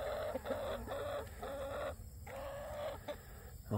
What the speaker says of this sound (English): Apparently this rooster's pretty old.